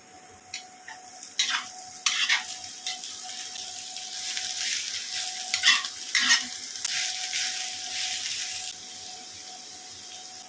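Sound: stir-frying beans and carrots with onion, ginger, garlic

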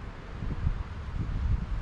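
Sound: wind blowing at a campsite

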